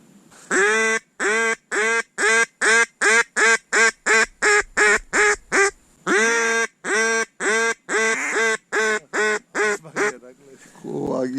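A duck quacks over and over in a rapid, regular series of loud, close calls, with a short pause midway before the quacking resumes.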